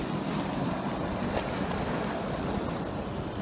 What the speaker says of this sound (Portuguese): É um riozinho. É o mesmo rio que vem da montanha.